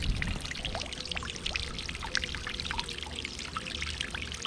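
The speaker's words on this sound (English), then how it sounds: "See that compared to the old one, it's actually aerating." A new pool aerator pours water into a pool with a steady, close splashing and trickling flow that continues unbroken.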